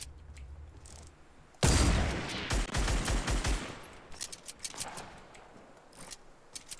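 Rapid gunfire in a Fortnite Battle Royale match, a sudden loud burst of close shots followed by quick rhythmic rounds, then fainter scattered shots further off.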